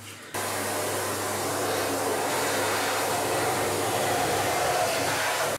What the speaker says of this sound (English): we're going to have to use the vacuum cleaner because he's gone behind this sort of sink piece